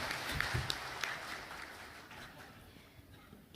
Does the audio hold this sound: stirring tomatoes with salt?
no